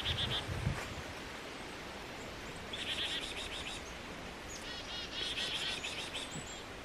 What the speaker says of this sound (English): And little black cap chickadees here all around me.